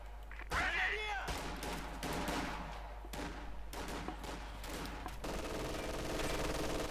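MG42 machine gun bursts from a Company of Heroes 2 battle rattle on steadily, sustained dense gunfire with explosions mixed in and a commentator talking over the action.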